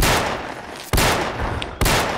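Video game gunfire: two sharp, loud shots about a second apart, each followed by a dense, noisy decay, with no talking over them.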